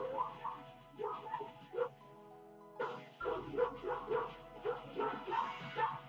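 Dog fighting a bear, giving a rapid, repeated run of sharp yips and barks in a steady rhythm, fairly close and loud.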